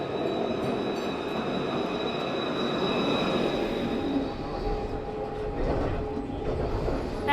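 A Tenerife tram rolls steadily along its rails with a constant low rumble, a thin high wheel squeal holding above it throughout, heard from on board or very near.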